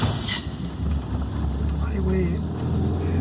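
A 1982 Datsun car fitted with a 150cc Italika motorcycle carburetor runs with a steady low engine rumble and some wind noise, while someone speaks briefly over it.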